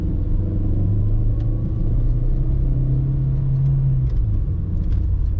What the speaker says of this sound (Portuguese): E aí ele dá aquela segurada na troca para a segunda marcha.